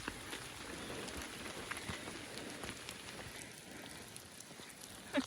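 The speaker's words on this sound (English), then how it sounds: "maybe it's raining and wet" Steady rain pattering on the ground and foliage along a wet lakeside hiking trail, a dense even hiss of drops with scattered closer taps, no voices.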